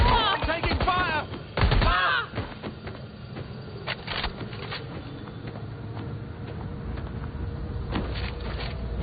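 Gunfire in the Watch Dogs Legion game, sharp close shots and short bursts at irregular intervals amid battle noise, with voices speaking over parts of it.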